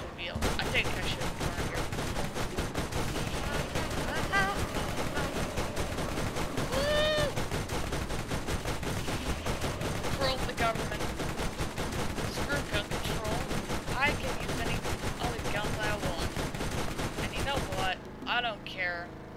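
Sustained automatic gunfire from a held-down trigger in the shooter game Borderlands, a dense continuous rattle of rapid shots running for most of the stretch, with someone talking over it, before it cuts off near the end.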